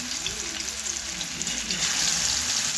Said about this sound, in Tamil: கடைசியாக இது மட்டும் போட்டு ஃப்ரை பண்ணியாச்சு